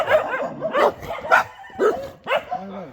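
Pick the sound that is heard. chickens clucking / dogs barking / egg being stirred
dogs barking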